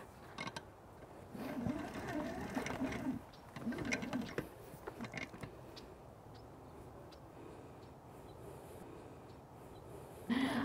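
A Liberty hose reel winds a garden hose in with a steady mechanical ratcheting clatter and rattle, close and moderately loud, running continuously with a few stronger bursts over the span.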